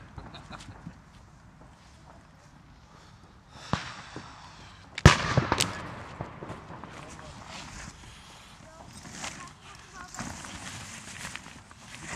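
Fireworks and F3 firecrackers bursting on New Year's Eve during a walking party tour, with one loud sharp bang and crackling around the five-second mark amid scattered distant pops, footsteps and background talk.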